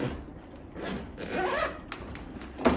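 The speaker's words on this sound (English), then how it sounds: "if I can find my zippers" A zipper on an underseat wheeled carry-on bag is pulled open in several short rasping strokes, close and fairly quiet, ending with a sharper final tug.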